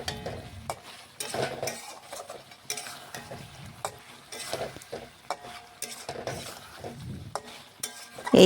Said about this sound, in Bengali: এই দেখুন এইভাবে নাড়াচাড়া করতে করতে কড়ার মধ্যেই কিন্তু মটনের জলটা শুকিয়ে গেছে।